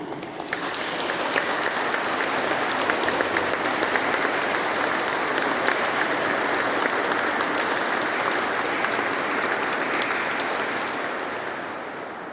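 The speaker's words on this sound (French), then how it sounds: "Je pense qu'on peut les applaudir en ce moment, en ce jour de Pentecôte." Steady, full applause from a gathered crowd honoring healthcare workers on Pentecost, a dense continuous wash of many hands clapping for over twelve seconds, slightly tapering near the end.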